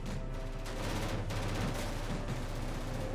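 Naval guns fire from warships in a British campaign battle in Victory at Sea Pacific, a steady, thick barrage of booming shots and rumble that fills the whole stretch without letup.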